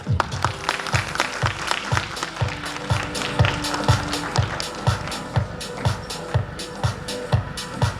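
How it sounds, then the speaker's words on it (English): A room's audience claps at a business event on outsourcing, with steady, rhythmic claps and a regular low thump under the clapping throughout. "let us all give a warm round of applause for Mr."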